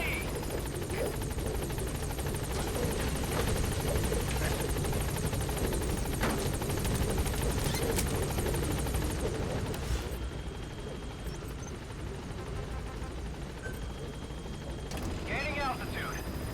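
Helicopter gaining altitude in the video game Metal Gear Solid V: The Phantom Pain, a steady loud rotor drone with game radio chatter and voices over it, easing slightly near the end.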